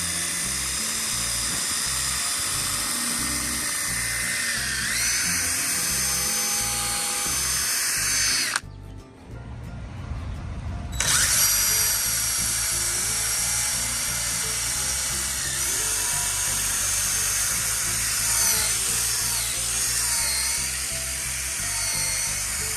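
An electric screwdriver spins a detailing brush attachment while cleaning a car, giving a steady high motor whine that cuts out briefly partway through and then resumes.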